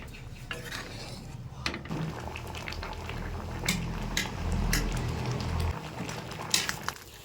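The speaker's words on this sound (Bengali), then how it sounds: "মশলা দিয়ে দিয়েছি, 1 মিনিট মতো ফুটিয়ে নেব।" A spiced potato and drumstick curry bubbles in a pot at close range. Metal utensils clink and scrape against the cookware throughout, over a low simmering hiss.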